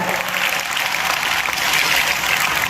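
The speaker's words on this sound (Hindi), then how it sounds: "जोरदार ताली से स्वागत करेंगे विवेक सिंह सर का" Seminar audience giving a loud, continuous round of applause to welcome a speaker, thick clapping filling the room evenly from start to finish.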